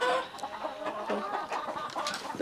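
Tiger breed chickens clucking on a poultry farm, several close, busy overlapping clucks and short calls in a steady stream.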